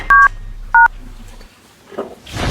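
Two short electronic keypad tones beep as a phone number is dialed, loud and distinct with a brief pause between them, followed by soft rustling and handling noise.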